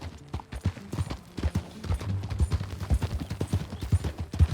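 Horse hooves clip-clop in Red Dead Redemption 2 at a steady walking pace, close and fairly loud, with a low rumble underneath.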